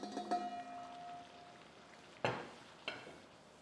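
Mutton kofta masala being fried in a pot, a soft sizzle with a few sharp stirring scrapes and clatters against the pot, fairly quiet and with no talk.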